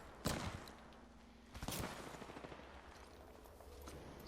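Gunfire in a first-person shooter video game: two sharp bursts of shots ring out, the second followed by a rattling run of fire, over a low steady game ambience with no talk.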